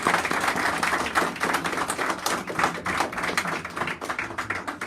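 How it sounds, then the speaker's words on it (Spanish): Warm applause from the audience at a legislator's public accountability session, dense steady clapping sustained for the whole stretch at a moderate, even level with no voices on top. "Yo quiero que los compañeros nuestros tributemos un cariñoso aplauso"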